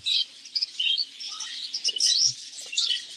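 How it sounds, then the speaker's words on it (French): Parakeets in an aviary chirp in quick, bright, overlapping bursts, a lively chorus of high tweets that rises and falls without pause, with no voices. "Bon, ici, ce sont les oiseaux."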